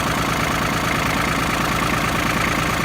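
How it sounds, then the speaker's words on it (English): A small tractor's engine runs at a steady idle, a loud, continuous close-up drone with an even mechanical pulse and no voices. "we've got to start the tractor, and we've got to work it a little bit"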